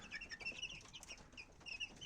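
Large chicks peep and cluck continuously in their pen, a busy chorus of overlapping high chirps at close range with no talk.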